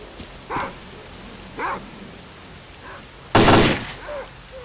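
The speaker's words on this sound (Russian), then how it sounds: "Собаки на свежее мясо прибежали." Dogs in the video game S.T.A.L.K.E.R. Clear Sky give a few short, spaced barks and yelps under a steady rain-like hiss, and one loud burst of noise lands near the end.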